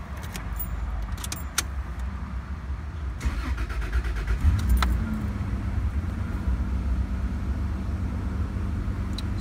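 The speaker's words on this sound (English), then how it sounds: "Let's go start the vehicle up and see if it starts for a start" Keys jangle, then a Toyota 1FZ-FE engine cranks and starts after a spark plug change, settling into a steady, close, rumbling idle.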